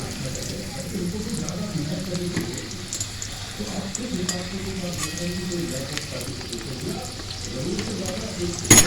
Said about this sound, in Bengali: লাল করে আমি ভেজে নেব আস্তে আস্তে উল্টে নিচ্ছি